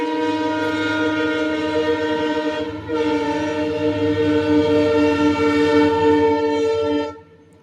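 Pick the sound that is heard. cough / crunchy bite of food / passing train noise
passing train noise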